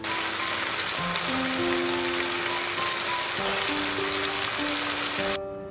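Chicken pieces shallow frying in a pan while cooking chicken tikka masala, giving a steady, dense sizzle that runs unbroken throughout, with faint tonal background sounds underneath.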